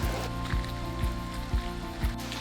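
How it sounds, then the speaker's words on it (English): Rain falls steadily in Salzburg, Austria, at about 56 degrees, a soft continuous patter over low rumbling background noise with a few faint dull knocks. "56 degrees and raining in Salzburg."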